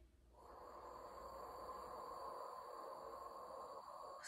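A slow, steady exhale of breath during a core breathing exercise, a soft airy hiss that starts after a brief pause and holds evenly at low volume for several seconds, close and alone.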